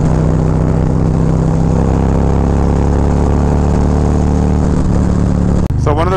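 A Harley-Davidson Road Glide Special with a TAB Performance exhaust idles with a deep, throaty rumble close by, steady and loud, briefly cut off near the end.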